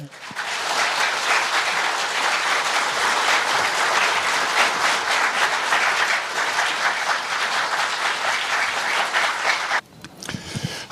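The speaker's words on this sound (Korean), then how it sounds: "큰 박수로 응원하여 주십시오." Audience applause at a press conference announcing a candidacy for Korean Sport & Olympic Committee president, a dense, sustained round of clapping from a sizable crowd that cuts off abruptly near the end.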